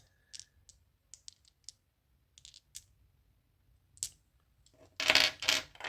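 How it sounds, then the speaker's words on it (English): Small rune dice tumble and clatter in several short bursts of light clicks, ending in a louder, denser rattle as they are rolled together up close. "The runes dice."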